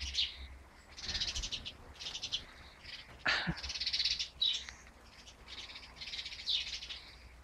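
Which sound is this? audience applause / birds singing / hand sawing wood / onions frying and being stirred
birds singing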